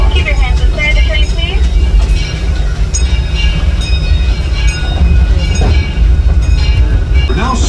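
The Disneyland Railroad steam train rumbles steadily along the tracks, loud and close, with continuous clattering wheel noise and muffled voices underneath throughout.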